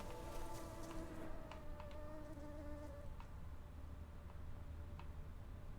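Insects buzzing in The Witcher 3 video game, heard as a faint, wavering drone with a few scattered clicks over a low ambient hum, steady and quiet with no voices.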